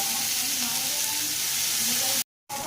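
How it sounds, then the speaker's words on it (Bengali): Onion and chopped ginger frying in a pan, a steady dense sizzle and hiss close up, continuous until a brief cut to silence near the end before resuming. "পেঁয়াজটাকে হালকা করে একটু ভেজে নেব। এই পেঁয়াজের সাথেই দিয়ে দেব কুচনো আদা,"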